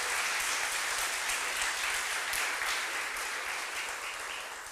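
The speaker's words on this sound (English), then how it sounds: "Let's give all the recipients again a round of applause." Steady round of applause from an audience at a faculty and staff retirement and recognition ceremony, moderately distant and even, many hands clapping together for the honorees.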